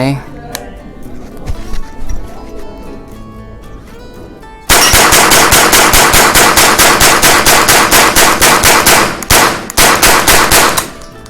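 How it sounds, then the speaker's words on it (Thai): Rapid semi-automatic fire from a Magnum Research MLR-1722 SwitchBolt .22 rifle with a 25-round magazine: a long, dense string of sharp, loud, evenly spaced cracks with a brief pause, preceded by quieter handling clicks. "เดี๋ยวจะลองยิงเร็วนะครับ ใช้แบ็กยาว 25 นัด"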